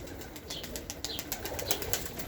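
Tippler pigeons flap their wings close by in quick, fluttery bursts mixed with soft cooing, all over a loud outdoor background.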